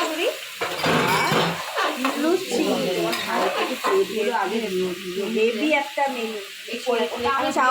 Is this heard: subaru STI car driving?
no